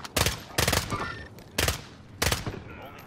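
Gunfire from Call of Duty Warzone arrives in four short, sharp bursts of rapid shots, spaced apart with quiet gaps between them.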